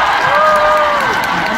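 Audience on the second floor of a concert hall at a televised music show taping breaks into loud applause and cheering, a dense roar of clapping and shouts with a sustained high cheer rising above the crowd.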